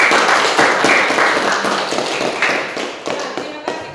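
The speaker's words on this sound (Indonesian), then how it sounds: "Tepuk tangan." Students in a classroom clap together after a group presentation, a dense burst of hand claps that starts loud and gradually thins out into scattered taps.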